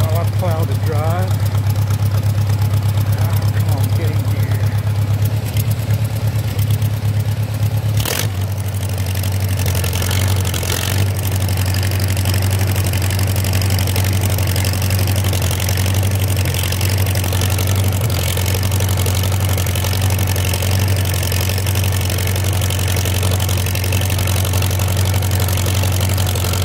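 A vehicle engine rumbles steadily and close while plowing a snowy driveway after about nine inches of snowfall at 27 degrees, a continuous low drone with scraping and a brief knock partway through, and a voice speaks briefly.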